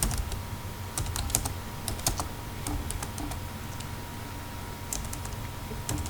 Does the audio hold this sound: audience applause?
no